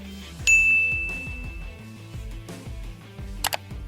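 A single bright bell ding rings out over bouncy background music, its clear tone lingering and slowly fading.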